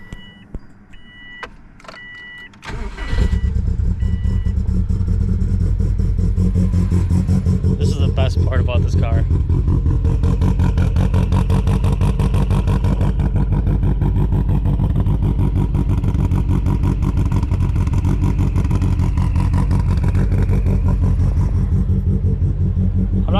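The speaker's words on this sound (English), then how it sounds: "I'm gonna give you guys a nice cold start." A Subaru WRX engine with an unhealthy motor and little fuel cold-starts after a few seconds of quiet, then settles into a loud, steady, rumbling idle that runs throughout, with someone talking over it.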